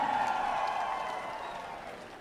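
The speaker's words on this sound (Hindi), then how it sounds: "जोरदार तालियों से" A rally crowd at a BSP and INLD political event in Uchana, Jind, applauds in a dense, steady wash of clapping that slowly fades over a couple of seconds.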